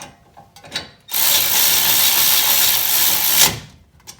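A power tool whirs for about two and a half seconds while tightening bolts on a Toyota Corolla brake upgrade. The steady, loud, close buzz starts abruptly and cuts off, with a few light metallic clicks and handling noises before and after.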